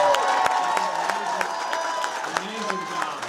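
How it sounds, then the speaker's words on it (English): Applause for campaign staff at a political rally: dense crowd clapping with cheering throughout, a steady roar of hands and voices filling the room, with scattered sharp claps standing out. "Please give them a round of applause."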